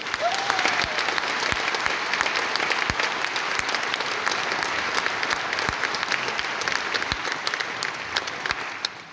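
Sustained applause from a concert audience at a tribute show, dense steady clapping with sharp individual claps standing out, filling the whole stretch before tapering slightly at the end.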